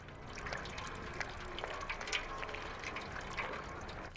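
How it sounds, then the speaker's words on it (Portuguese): Soft, steady trickling and lapping of water as a cat drinks in the video game Stray, a continuous wet liquid sound with small irregular splashes, fairly quiet throughout. "Bebe uma aguinha aí, gatinho."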